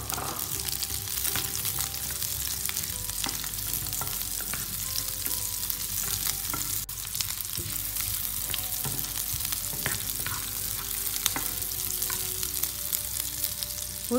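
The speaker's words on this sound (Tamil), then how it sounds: "சின்ன வெங்காயம் வந்து கட் பண்ணி வச்சுருக்கேன். ஸோ இதை வந்து நம்ம சேர்த்துக்கலாம். ஸோ நல்லா வதங்கட்டும்." Shallots and garlic sauté in hot oil for a South Indian fish curry, giving a steady, close sizzle and fry with occasional scrapes and taps of a spatula stirring the pan throughout.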